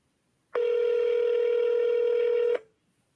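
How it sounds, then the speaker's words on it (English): A telephone sounds a single steady tone for about two seconds while a call is placed, starting and stopping abruptly with quiet before and after it. "Just pick up the phone and call."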